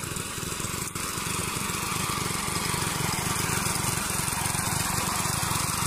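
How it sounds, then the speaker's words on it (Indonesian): An engine-driven machine that pushes water along a ditch to float coconuts runs steadily and loudly with a continuous throbbing drone and a brief click near the start. "si mesin akan terus mendorong air masuk ke dalam anak parit"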